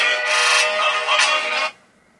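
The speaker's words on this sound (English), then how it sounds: "your phone goes off and your alarm is really loud" A phone alarm blares loudly in two bright, shrill bursts with a brief dip between them, then cuts off abruptly, leaving near silence.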